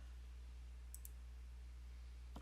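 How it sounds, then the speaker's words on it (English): A computer mouse button is clicked twice in quick succession to run a query, with faint, close clicks over a steady low electrical hum in a quiet room. "And we're going to execute it by clicking the execute button."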